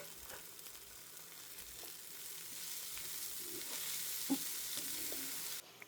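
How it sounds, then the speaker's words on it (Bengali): Ingredients for a bhorta fry in a pan, a continuous close sizzle punctuated by light stirring clinks and scrapes, growing slightly louder before cutting off near the end. "দিয়ে আরেকটু নাড়াচাড়া করলে ভাজাটা কমপ্লিট হয়ে যাবে"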